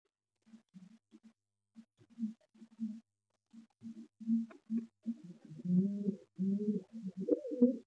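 Pigeons coo in a loft of Laldom pair pigeons, starting as soft, scattered low coos and building into louder, overlapping rolling calls alongside light scratching and shuffling.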